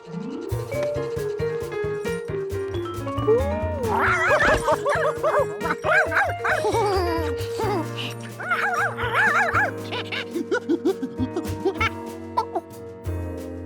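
A cartoon dog in a Curious George episode barks and yips in a string of excited calls over a full, busy musical score that runs throughout.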